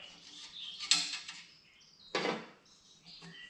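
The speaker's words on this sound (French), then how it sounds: "je dévisse cette merde là" A homemade part on a children's vehicle is unscrewed during a front-wheel change, giving two sharp, close creaking squeaks separated by quieter scraping and fiddling in a quiet room.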